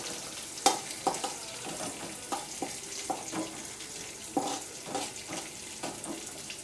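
Curry leaves fry on a low flame in a pan, a soft sizzle broken by repeated light scraping and clicking as they are stirred.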